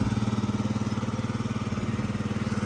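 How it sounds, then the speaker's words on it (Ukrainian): A Yamaha Jog SA36 scooter engine runs steadily at idle, loud and close, with an even, rapid pulsing beat throughout and no talk. "Заводиться ідеально, працює рівно, без всяких лишніх нюансів."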